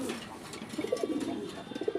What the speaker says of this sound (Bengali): গোল্লা কবুতর অনেকেই নরের ডাক শুনতে পছন্দ করেন